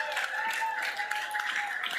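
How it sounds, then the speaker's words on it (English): Audience applause for honorees recognized by West Oahu, steady broadband clapping throughout at moderate level, with a faint voice or tone running underneath. "Give them all a round of applause."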